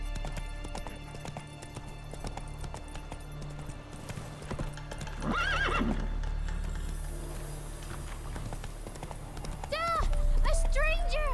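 Roach the horse gallops with rapid hoofbeat clip-clops through a video game world in The Witcher 3, with a whinny, a steady music bed, and voices speaking over the hooves.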